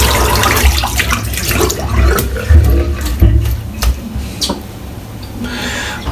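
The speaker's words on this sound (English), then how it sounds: "I'm just going to get the rest of the soap out of the brush" A shaving brush is rinsed of its soap under a running bathroom tap, water splashing and gurgling close by in uneven bursts as the brush is worked.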